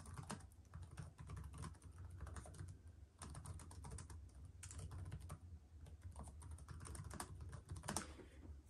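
Rapid, steady typing on the keyboard of an ASUS ROG Flow X13 gaming laptop, the keys clicking close and faint in a continuous run with no voices.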